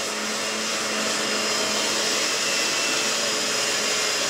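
An electric mixer whirs steadily, beating room-temperature cream cheese for a chocolate cheesecake, a constant motor drone with no breaks, close and fairly loud.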